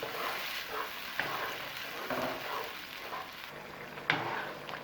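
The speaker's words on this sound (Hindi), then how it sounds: "टमाटरों को हमने तकरीबन लहसुन के साथ 1 मिनट के लिए फ्राई किया है" Tomato paste and garlic frying in a pot, a dense steady sizzle with occasional stirring scrapes and pops, close and constant, no voices.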